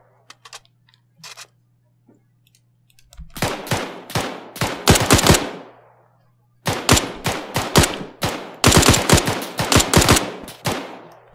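Automatic weapon fire in the military shooter Arma 3, long bursts of rapid, loud shots starting after a few seconds of near-quiet, pausing briefly, then resuming in repeated bursts at close range.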